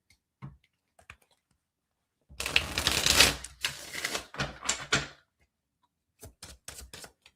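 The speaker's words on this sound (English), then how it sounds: "Let me shuffle and pull more cards." Tarot cards shuffled by hand in a series of crisp riffling and slapping bursts, a long continuous shuffle followed by shorter flutters and a few separate taps, close and alone with no voice.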